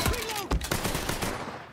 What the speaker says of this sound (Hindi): स्नाइपर राइफल से मार रही है मुझे।